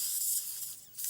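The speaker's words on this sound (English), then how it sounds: "So you spray it with paint." A spray can hisses steadily as paint is sprayed onto a brass plate, a short, close, continuous burst of airy spray with no voices.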